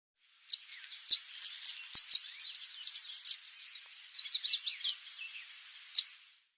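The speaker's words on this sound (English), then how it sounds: "Yellow warbler." A yellow warbler sings a rapid, twittering run of high, sweet notes for several seconds, close and alone against a quiet background.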